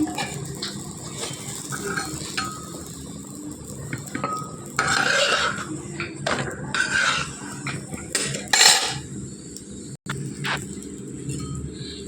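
Chapatis cooking on a hot pan, flipped to fry on both sides, with a steady soft sizzle, scraping and occasional clinks of a utensil against the pan, close and fairly loud with no talk.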